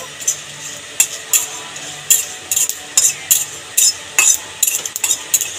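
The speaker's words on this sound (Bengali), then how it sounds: "জিরেটাকে নেড়ে ছেড়ে একসাথে করে বা দুটো ভেজে নেব" Quick, repeated scraping taps of a utensil in a pan over a soft frying hiss of dried chillies and cumin, steady and close, with no talking.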